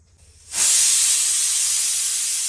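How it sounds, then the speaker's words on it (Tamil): A pressure cooker boiling chickpeas lets out its whistle. After a brief quiet moment, a loud, steady steam hiss starts suddenly and keeps going without a break. "கொண்டக்கடலை வேக வச்சுருக்கோம், அதான் விசிலு சவுண்டு கேட்கும்."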